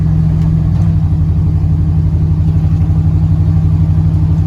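A car interior on a long, rough, rugged road toward an old 1930s Alaskan gold mine, a loud steady low engine drone with a continuous rumble throughout.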